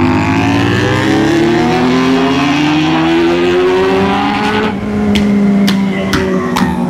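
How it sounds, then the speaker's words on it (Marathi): A Bajaj Dominar motorcycle engine revs hard with a rising, droning pitch, then a rapid string of four or five sharp exhaust backfire pops crackles out near the end, loud and close. "मी फक्त बॅक फायर साठी राईड करतोय"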